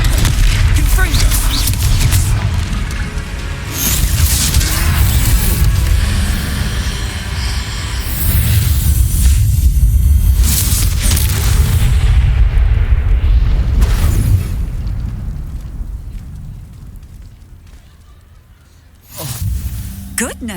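Confringo fire spell explosions in the Hogwarts Legacy video game, heavy booming blasts with rumbling low end stacked through a loud dense battle mix, fading near the end before a final sharp burst, with character voices speaking over it.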